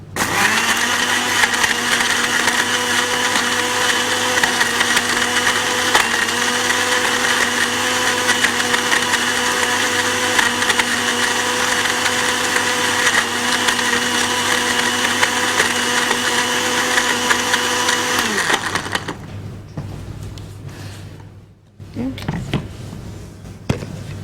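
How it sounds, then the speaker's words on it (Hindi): Blender whirring as it blends a date shake with ice, a loud, steady motor whine with grinding for about nineteen seconds before switching off, followed by quieter handling noises and brief clatter. "बर्फ़ के साथ आपने इसको अच्छा सा ब्लेंड करना है।"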